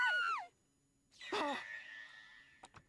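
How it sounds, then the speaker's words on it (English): A character screams in The Hundred Line: Last Defense Academy, a sharp vocal cry of about a second, preceded by a brief wailing voice and followed by a lingering high ringing tone and two small clicks. "All of a sudden I could hear screaming"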